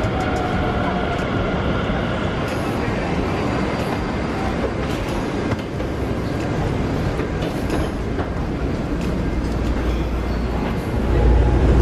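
An airport metro train in Taiwan rumbles steadily at the station, a loud continuous roar of wheels and motors that swells slightly near the end, with voices faintly mixed in.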